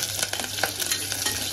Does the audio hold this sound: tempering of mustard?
yes